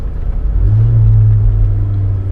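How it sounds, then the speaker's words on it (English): Tata Hexa SUV in sports mode accelerating, its turbocharged engine giving a steady low rumble that swells and holds loud from inside the cabin, with a droning tone over the engine noise. "Ooh, you can really hear the turbo."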